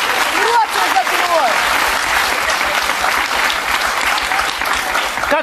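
Studio audience applause on a Russian talk show, loud, dense clapping sustained throughout, with brief faint voices and whoops near the start.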